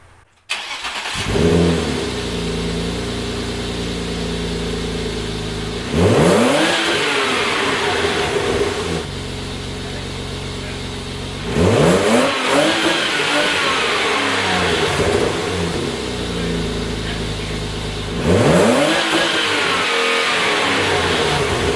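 A BMW E34 525i with a new straight-piped exhaust revs up in four strong bursts, each rising and falling over a steady loud idle, heard close and alone.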